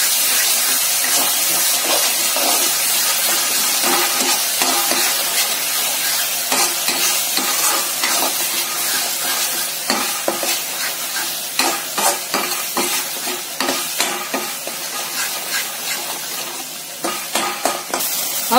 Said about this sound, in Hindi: अब इसको लगातार चलाते हुए एक मिनट और भून लेंगे